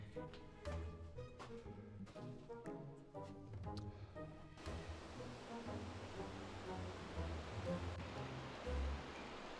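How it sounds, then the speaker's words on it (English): Water runs inside a cave on Vancouver Island in winter, a faint, steady rushing wash with a few soft knocks early on. "I'm definitely hearing more running water here"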